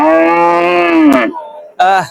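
A calf at a Gazipur cattle market calls for its mother with a long, loud, close moo, then a second shorter moo after a brief pause.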